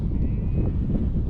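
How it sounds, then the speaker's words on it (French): Ewes in an open, windy countryside bleat briefly while steady wind buffets the microphone, the call rising faintly over the rumble. "des jolies brebis"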